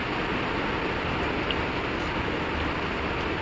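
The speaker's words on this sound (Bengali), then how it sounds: "আর ভালো লাগছে না এই বৃষ্টি" Steady rain pours down in a dense, even hiss of drops that stays at one level throughout, close by and without any voices.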